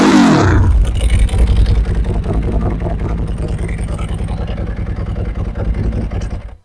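A loud, close Ducati 999S Team USA Edition motorcycle engine revs up sharply, then settles into a rough, pulsing idle with a steady rattling rhythm from the open clutch throughout.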